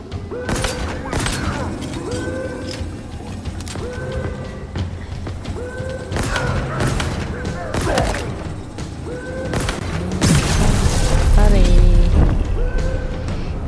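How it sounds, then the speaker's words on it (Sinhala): Explosions and gunfire in the video game Halo Infinite, with repeated booms and bursts of shots, a heavier blast rumbling near the end, and game sound effects mixed in. "මේ තියෙන එකක් මේක පුපුරවන්න"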